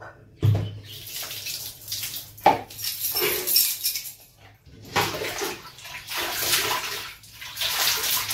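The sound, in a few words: soaking a pillow cover in water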